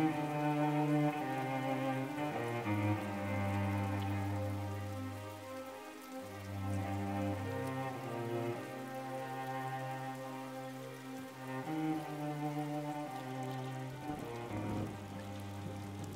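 Steady rain falling outside a shop window at night, a soft continuous patter heard from indoors under a sustained musical drone, with no voices.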